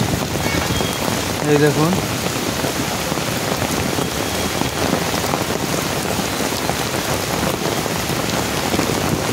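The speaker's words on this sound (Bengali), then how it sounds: "প্রচুর বৃষ্টি পড়ছে" Heavy rain pours steadily in a park at a zoo garden in Mumbai, a dense, loud, continuous hiss of drops on surfaces, with a brief spoken remark early on.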